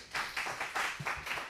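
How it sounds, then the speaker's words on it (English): Audience clapping for two people at an evening talk session, a dense burst of applause swelling in rhythmic waves, fairly close and steady, with no talk over it. "I think I will ask for a big applause for Caroline and Leandro"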